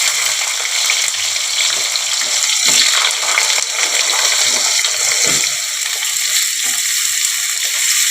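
Potato pieces frying in hot oil with black cumin while cooking a hand-mixed lote fish curry, giving a steady, close, bright sizzle with brief stirring scrapes throughout and no talking.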